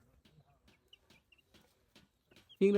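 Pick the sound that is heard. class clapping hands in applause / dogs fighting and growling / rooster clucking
rooster clucking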